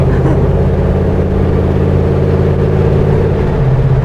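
A customized American muscle car drones with a deep, steady engine note as it cruises, heard continuously from inside the cabin. There is almost no talk during the drive.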